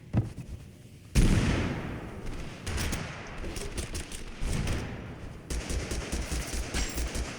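Shotgun blasts in a first-person video game ring out as a run of rapid, loud bursts with echoing tails, layered over busy game noise.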